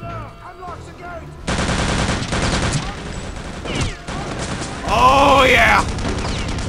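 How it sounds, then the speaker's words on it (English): Machine gun fire in Return to Castle Wolfenstein, heard as loud, sustained automatic bursts that keep rattling with short breaks, while someone shouts excitedly over the shooting. "I got a machine gun! Got a machine gun!"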